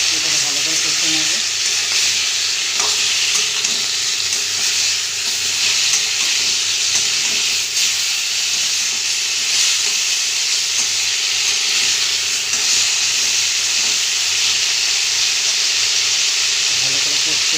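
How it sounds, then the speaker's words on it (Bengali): Cauliflower, potato and flat bean vegetables with spices being stir-fried in a kadai for a Bengali rohu fish curry, giving a continuous loud sizzle and steamy hiss close by, with occasional faint clinks and no speech. "এটাকে ভালো করে কষে নেব।"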